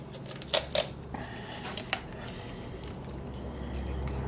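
Sharp kitchen shears snip through the backbone of a partly frozen raw chicken being spatchcocked, giving two crisp close cuts followed by a smaller crunch, then quiet handling noise in a home kitchen.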